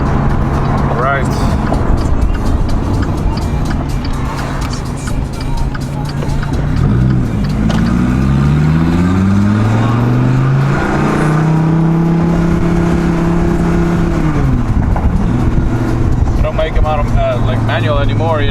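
A manual Dodge Viper sports car accelerates hard on a road, its loud engine note rising through the gears with clear pitch sweeps and shifts, while people talk over it from inside the car.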